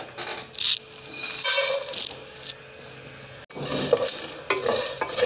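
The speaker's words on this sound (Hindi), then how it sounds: "अब हम इनको फ्राई करते हैं।" Whole coriander seeds and cardamom fry in a pan, giving a steady sizzle with stirring scrapes and clinks of a spoon against the metal pan, close and continuous.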